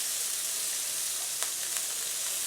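Thin-cut pheasant breast frying in a pan, a steady bright sizzle with a couple of brief sharp clicks as tongs flip the pieces, no voices.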